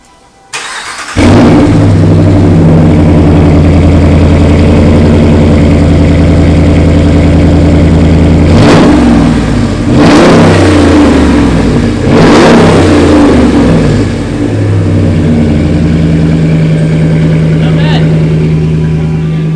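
A Ram 1500 pickup truck with a new exhaust and K&N intake starts up and settles into a deep, rumbling idle, with a few sharp revs blipping through the middle, loud and close.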